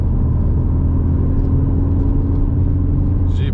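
A Ford Focus RS accelerates hard in sixth gear, heard from inside the cabin as a loud, steady low engine drone and road rumble with a constant tonal hum throughout.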